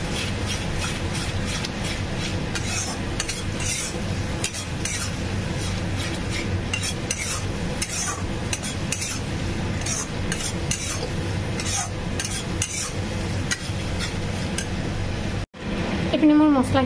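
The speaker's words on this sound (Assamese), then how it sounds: "কেঁচা জলকীয়া পেষ্টটো আৰু হালধিৰ পেষ্টটো দি দিম। এইখিনি ধুনীয়াকৈ মই অকণ ফ্ৰাই কৰিব দিম।" Green chili paste and turmeric paste fry in a pan with a loud, continuous sizzle and repeated scraping stir strokes from a utensil, close up and steady throughout, with no talking.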